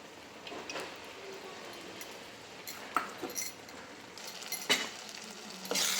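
Oil sizzles steadily in a pan, with a few sharp crackles and spits as tempering spices hit the heat, close by and moderately loud.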